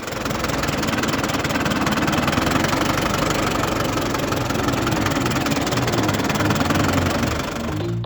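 A Lamborghini diesel tractor, freshly fitted with new fan belts, idles steadily up close with a loud, even, knocking rumble and vibration that continues throughout, with no voices.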